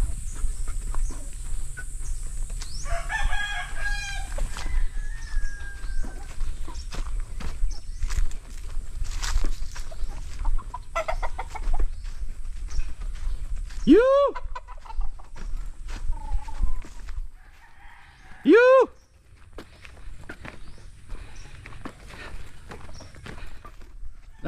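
Roosters crow twice clearly nearby in Tuburan, Cebu, with other faint bird calls and clopping footsteps in a noisy outdoor farm setting.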